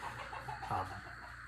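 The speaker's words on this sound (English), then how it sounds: "you might hear a chicken" A chicken clucks softly in the background, a few short calls over steady low ambient noise.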